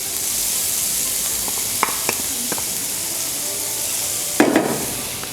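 White onion hits a hot pan and sizzles steadily, a dense broadband crackle with a few scraping stirs and a louder burst of frying near the end; no one speaks.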